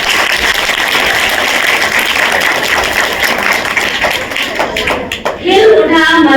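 Loud applause from an audience at a school mothers' gathering, dense steady clapping throughout, with a voice beginning to speak over it near the end.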